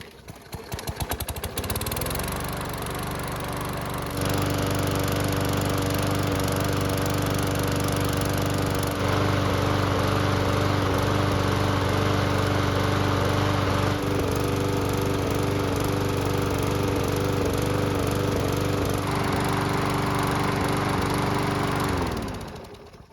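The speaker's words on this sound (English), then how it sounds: "So it's been running for several minutes and the engine should be good and hot." A Murray lawn mower engine runs steadily for about twenty seconds, a loud, even drone that starts up and then cuts off at the end.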